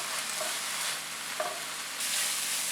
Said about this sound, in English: onion and green chilies have been sauteing in the oil for about 3 to 4 minutes